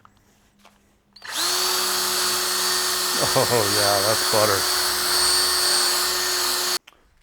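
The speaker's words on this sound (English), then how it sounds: "let's switch over to power tools" A power tool whines steadily while cleaning the spring of an XR250R dirt bike shock, starting abruptly and running at high pitch for several seconds with a brief speed wobble midway; someone speaks over it.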